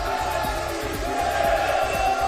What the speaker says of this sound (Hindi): इस दौरान भारत माता की जय के नारे भी लगे।